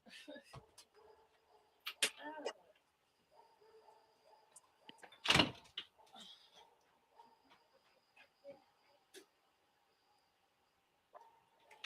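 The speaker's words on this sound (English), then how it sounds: "he just like head butted the door in" A dog head-butts a door open indoors. One loud, sharp thump lands mid-clip among scattered faint knocks and clicks in an otherwise quiet room.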